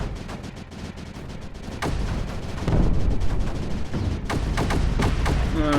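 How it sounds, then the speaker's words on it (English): Flying cannons in the strategy game Creeper World 4 fire in rapid, repeated bursts of sharp cracks and booms, dense and loud over a constant rumbling battle din with no talking. "I love the flying cannons."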